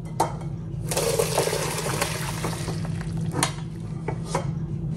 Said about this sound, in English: I'm going to turn off the heat and strain the water.